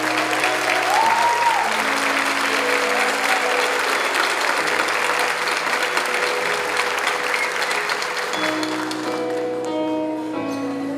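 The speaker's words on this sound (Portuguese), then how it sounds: "Agora é o coral que aplaude vocês." A choir applauds its audience at a concert in Florianópolis, producing steady, sustained clapping that stays close and even throughout, with faint voices mixed underneath.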